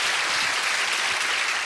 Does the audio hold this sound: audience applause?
yes